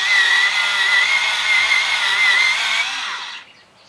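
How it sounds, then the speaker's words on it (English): A pink colored pencil is sharpened in what sounds like an electric sharpener, giving a continuous close, loud grinding whir for about three seconds before it winds down and stops. "I'm going to sharpen it because, as you can see, it's kind of blunt."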